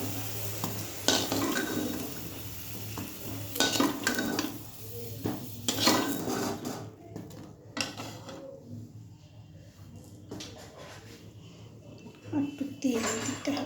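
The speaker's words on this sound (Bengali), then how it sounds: "এই যে দেখো বেগুনটা আমার ভাজা হয়ে গেছে। এবার আমি বেগুনটা নামিয়ে দেবো।" Eggplant for chorchori frying in oil in a pan, then being lifted out: soft sizzling with scraping and clattering utensil hits on the pan, while a person talks throughout.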